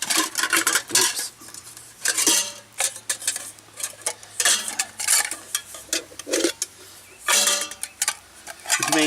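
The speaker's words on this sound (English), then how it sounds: "it's one pan with a lid which turns into like a mess tin, and it's a Russian doll kind of design." Metal camping pans and a mess tin from a nesting, Russian-doll style set being handled, giving repeated close clanks, scrapes and taps in irregular bursts with short pauses, with no talking.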